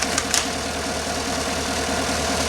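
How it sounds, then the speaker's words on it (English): A GMC 5.3 LS V8 with a bent intake push rod idles with a fast, steady ticking knock pulsing over its low hum, heard up close. "Engine also ticking on bank 2, right side."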